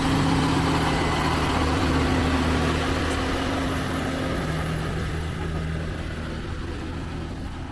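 Oversized heavy transport truck climbing a mountain road on the High Van Pass, its deep low engine rumble droning steadily and loud, slowly easing slightly toward the end, with no voices.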